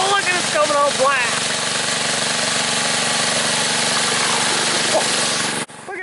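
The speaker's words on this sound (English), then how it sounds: "It actually pumps. I didn't think it would actually pump." An engine-driven water pump salvaged from a scrapyard runs steadily at a loud, constant drone, with a voice talking over the first second and the engine cutting out near the end.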